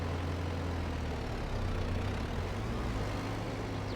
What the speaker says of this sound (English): the tractor's doing fine with the seeder